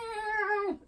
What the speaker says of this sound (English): Oh, it's a cute cat.